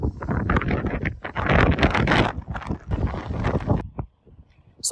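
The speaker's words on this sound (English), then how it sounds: "Windy up here though." Wind gusting across a mountain top, buffeting the microphone in loud, ragged bursts that swell and drop, easing briefly near the end before picking up again.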